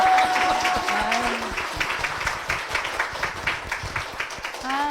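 A church audience claps for a couple during a program, a crisp, close burst of applause that begins loud and continues with distinct, irregular hand claps, with a few brief voices and a short musical tone mixed in.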